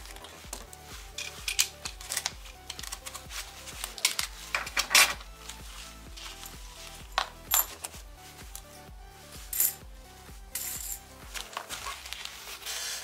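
Soviet 5 kopeck coins from 1930–56, dug and cleaned, clink and rattle continuously as they are unpacked and handled, with dense metallic taps and jingles close by and no speech.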